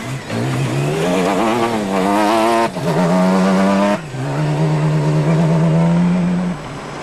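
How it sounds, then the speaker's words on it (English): A Dakar Rally race car driven off-road in 2016 roars past, its engine revving hard through rising and falling gear changes with a brief break mid-run, loud and close, no voices. "It was a pretty rough drive for Carlos Sainz"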